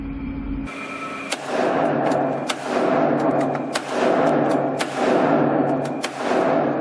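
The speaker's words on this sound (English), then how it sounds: "I fire a 24-gram shell." Shotgun blasts from 24-gram shells ring out in a regular series, about five loud sharp reports each trailing into a short echoing decay, with no talking.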